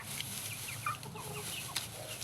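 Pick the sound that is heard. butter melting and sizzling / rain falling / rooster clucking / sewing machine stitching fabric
rooster clucking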